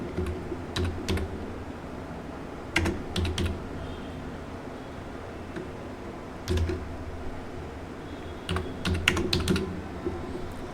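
Keys clatter on a computer keyboard during data entry, in scattered short bursts of rapid clicks over a steady low background hum.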